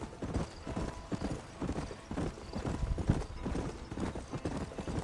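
A horse gallops in the Red Dead Redemption video game, its hooves pounding in a rapid, continuous clip-clop rhythm with occasional snorts, steady and fairly close.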